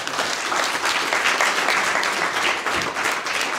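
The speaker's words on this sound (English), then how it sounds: "Give them both a round of applause." An indoor crowd at a soccer club's summer launch event claps in sustained, dense applause at a steady, fairly loud level throughout, with no speech over it.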